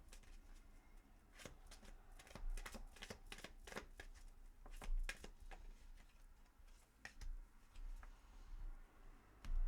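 Oracle cards with animal spirit themes are shuffled by hand in a quiet room, producing a steady run of crisp riffling flicks and soft card slaps alone at close range.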